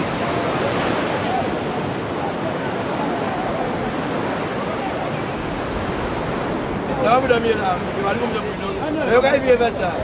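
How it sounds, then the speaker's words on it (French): Powerful surf breaks on a Caribbean beach in the Antilles, a steady, loud roar of crashing water that fills the whole stretch, with a few faint voices surfacing near the end. "La plage est réputée pour la puissance du ressac."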